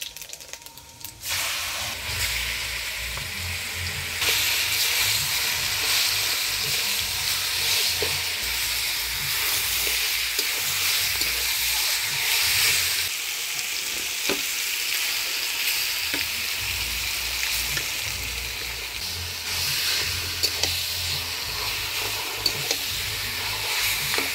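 Boiled olives frying in oil with dried chilli and panch phoron give a loud, steady sizzle with occasional stirring scrapes, continuous throughout with no talking.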